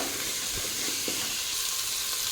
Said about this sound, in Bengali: তো এই হাই ফ্লেমে আছে, এখন এটাকেও একটু নাড়িয়ে ভেজে নেব।